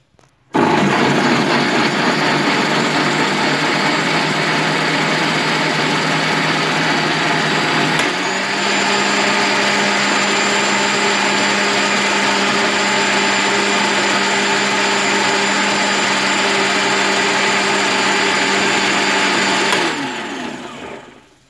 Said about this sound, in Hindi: अब मैं इसको भी ग्राइंडर में ग्राइंड कर लूँगी